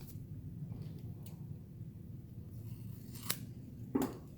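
Paper rips at the top of a reading journal page, with soft handling rustles followed by two short, sharp tearing bursts near the end, close and fairly quiet, no talk.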